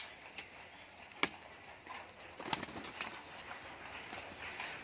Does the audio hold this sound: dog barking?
no